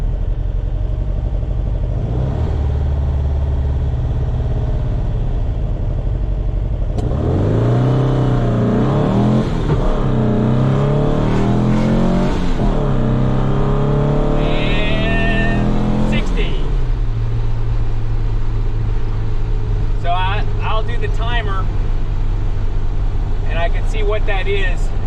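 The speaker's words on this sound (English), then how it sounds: "I can do 0 to 60 here and see what happens." A 1961 VW Beetle, 65 Pan, accelerates hard from a standstill to 60 mph, its engine revving loudly up through the gears with pitch climbing and dropping at each shift, heard from inside with a voice speaking over it.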